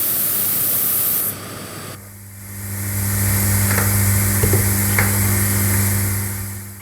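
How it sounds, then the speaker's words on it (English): A steady, dense hiss of pink noise plays loudly, then drops away into a low droning hum with a few faint clicks. "Start playback of the pink noise and record the pickup at the same time"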